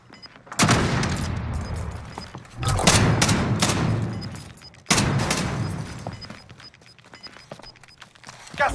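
Gunfire in the video game Warzone in a Jak-12 duos match: three loud, dense bursts of shots hit in close succession, each fading into rumbling echo, with a quieter tail at the end.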